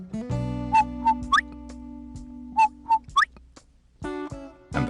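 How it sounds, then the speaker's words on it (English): Quail whistling out in the night near a willow tree: a series of short, clear rising whistle notes in pairs and triplets, heard over soft background music tones. "you hear the quail whistle out to you."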